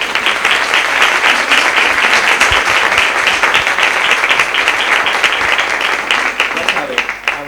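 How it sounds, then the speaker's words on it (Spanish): Audience at a talk with novelist Luz Gabás breaking into loud, sustained applause, dense rapid clapping filling the whole stretch before easing slightly at the end. "Se merece un aplauso."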